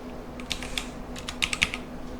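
Quick bursts of keystrokes on a computer keyboard, close and fairly quiet, in irregular clusters with short pauses over a low steady hum, no voices.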